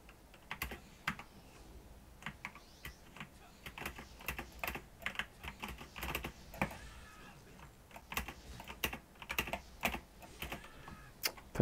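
Fast, irregular clatter of a computer keyboard during a ranked online game, crisp individual keystrokes in uneven bursts, close, with faint background sound between strikes.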